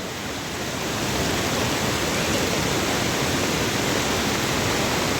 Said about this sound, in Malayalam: ചില സ്ഥലത്തൊക്കെ നല്ല കുത്തിയൊഴുക്കാണ് കേട്ടോ